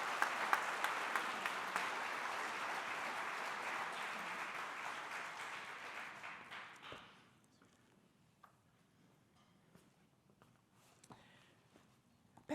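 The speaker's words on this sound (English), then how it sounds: "please stand as well right now for a round of applause" Audience applause for community service volunteers at an awards ceremony, a dense steady clatter of many hands for about seven seconds that then fades quickly into near silence with a few scattered claps.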